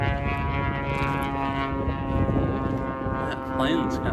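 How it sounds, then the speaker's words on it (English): An airplane passing overhead on an afternoon walk near an old road turned boardwalk, its loud steady droning hum filling the background continuously while a voice speaks over it. "That plane's kind of loud."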